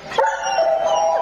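A dog gives a short, sad whimpering yelp in a radio drama, a single close, plaintive canine cry lasting about a second.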